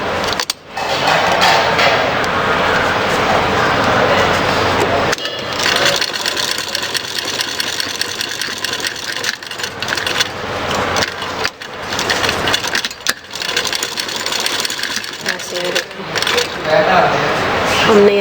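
An electric sewing machine stitches a trouser seam in several bursts of whirring, clattering motor sound, each lasting a few seconds and separated by brief pauses, heard close up.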